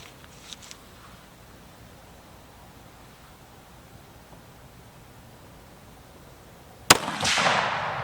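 After several seconds of quiet outdoor background hiss, a Browning X-Bolt rifle chambered in 6.8 Western fires one sharp, loud shot near the end, and its report trails off.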